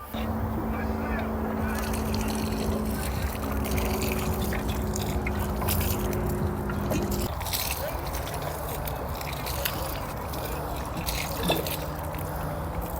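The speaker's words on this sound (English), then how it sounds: "now I just need to water it in and let it do its thing" Garden soil being watered in autumn, a steady hiss and trickle of water running throughout, with a low hum in the background and no talk.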